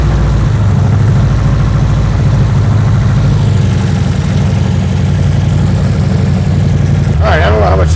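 A 1972 BMW 2002 engine idles steadily and loudly up close, with a continuous rattly, knocking clatter from the front of the engine and a brief burst of other noise near the end.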